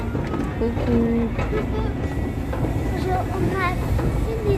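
Ride aboard a metro train, with steady rumbling rail noise and occasional squeals throughout, loud and close, while people talk over it.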